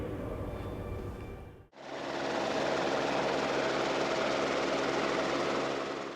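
A helicopter's engine and rotors run loudly and continuously, with a brief cut before a sustained, broad roar.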